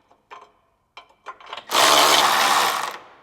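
Bolts on a Spoon Sports stiff plate are tightened with a 19 mm socket on a Honda Civic Type R FL5: a few light clicks and taps, then a loud steady whirring burst of a power tool for just over a second.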